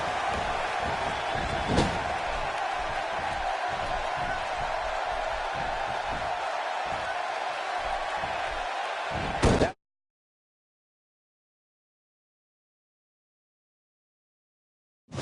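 A wrestler is slammed onto the ring floor in a PS4 wrestling video game: a sharp heavy thud cuts through steady, dense arena crowd noise, with another impact near the end before the sound drops to sudden silence.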